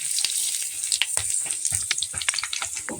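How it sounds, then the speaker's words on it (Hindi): Curry leaves and mustard seeds sizzle in hot oil for a tempering, a close, steady hiss broken by rapid popping and crackling spits throughout. "तो अब हम इसमें डाल देते हैं कड़ी पत्ता और सरसों।"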